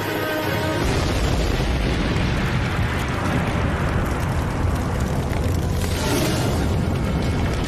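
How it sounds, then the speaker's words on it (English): A boiler explodes inside a burning chemical recycling plant. A heavy, continuous blast roar fills the whole stretch, loud and rumbling, with a brief surge of extra force partway through. "flames hit the boiler, causing a massive explosion."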